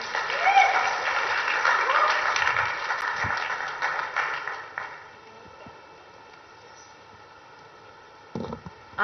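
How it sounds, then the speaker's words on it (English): Applause from an audience at a Bollywood talk event with Kriti Sanon, fairly loud for about five seconds and then fading out, with voices mixed in. "Can we have a round of applause, please?"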